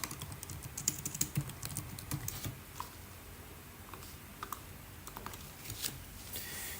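Computer keyboard typing an SQL query, a run of quick clustered keystrokes loud at first, then sparser scattered taps, close up with no voice over it.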